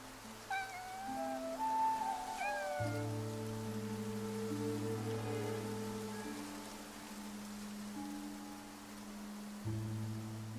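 Two short cat meows sound early on in the video game Infinity Nikki, over sustained electronic game music and a soft, rain-like hiss.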